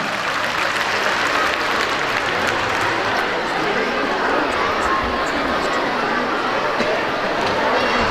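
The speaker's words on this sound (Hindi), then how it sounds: "हाथ ऊपर करके तालियां होनी चाहिए।" A large audience at a convention center applauding loudly and continuously, dense clapping with crowd murmur mixed in for several seconds.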